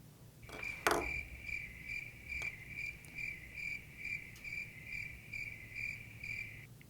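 Crickets chirp steadily in a dry, evenly pulsing rhythm, fairly faint and alone, with a brief sharp knock near the start.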